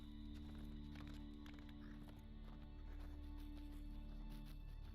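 A mounted horse trots through the Golden Woods in Lord of the Rings Online, its steady clip-clop of hooves running throughout over a constant layer of in-game music and ambience, with no talking.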